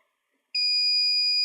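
A multimeter's continuity buzzer sounds during repair of a dead Acer Predator laptop board, beginning abruptly after half a second of silence as a loud, steady, piercing electronic tone that holds until the end.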